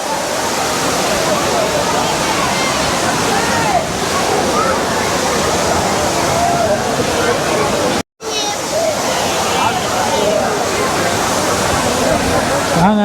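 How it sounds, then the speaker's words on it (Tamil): The Aintharuvi (Five Falls) waterfall at Courtallam roars as a loud, continuous wash of falling water throughout, with a brief cut near the middle and crowd voices blending into the rush. "போய் பாருங்கள் ஐந்தருவியை என்ன சூப்பராக இருக்குன்னு"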